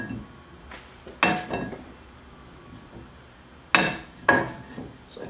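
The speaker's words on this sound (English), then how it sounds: "We're going to tighten up the bolts." Bolts on a C7 Corvette Stingray Z51 brake caliper being tightened, heard as a few sharp metallic clinks and tool taps in two close clusters against a quiet background.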